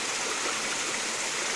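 A stream and small waterfall in Arkansas's Ozark National Forest rush in a steady, soft broadband hiss, fairly faint and uninterrupted, with no voices.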